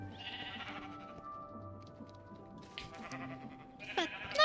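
Blocky sheep in a Minecraft world modded with Create bleat in short repeated calls, moderately close, over a low ambient hum, with a brief sharper sound near the end.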